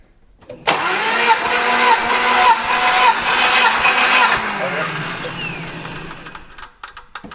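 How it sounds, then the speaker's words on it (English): An abandoned Jeep's engine cranks with the throttle held wide open, a loud, continuous whirring churn that starts abruptly, holds for several seconds, then slows and fades out. "All right, throttle wide open and crank"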